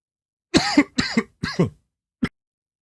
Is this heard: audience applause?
no